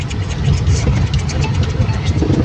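Heavy goods train hauling coal rumbling past up close, a loud continuous low mechanical drone with steady rolling texture and no voices.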